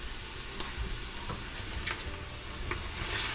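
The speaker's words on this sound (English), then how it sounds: "As the beef browns, you will begin to see the fat and liquids drain from the beef." Ground beef browns in a pan for American chop suey, giving a steady, close sizzle and crackle of fat and liquid with occasional soft stirring taps.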